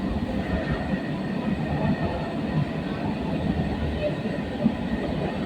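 Kolkata Metro Orange Line train running between Beleghata and Kavi Subhash: a steady, loud rumble and rush of the moving carriage that holds for the whole stretch, with no talk over it.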